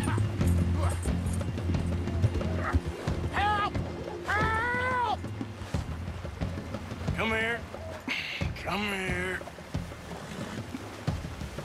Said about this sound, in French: Puis le temps que moi je monte sur mon cheval.